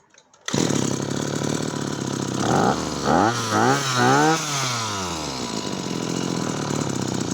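Maruyama CBC20 brush cutter engine roaring to life after a restart, loud and close, with throttle blips that swing the pitch up and down before settling into a steady high buzz.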